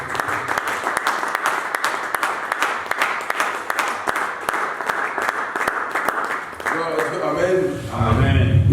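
A church congregation applauds and cheers for Jesus, dense sustained clapping that fills the room and then gives way to voices near the end.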